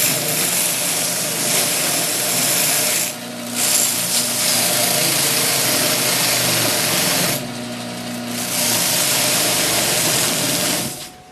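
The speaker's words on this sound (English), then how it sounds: "we're over here at the mop sander." A mop sander smooths a small wooden reindeer, its motor running with a steady whirring drone that dips twice in pitch and loudness as the workpiece is pressed against the spinning flaps, fairly loud and close.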